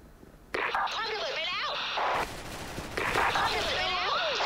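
Bursts of rapid gunfire in the online shooter Special Force crackle in two volleys during a team match, with a voice talking excitedly between and over the shots.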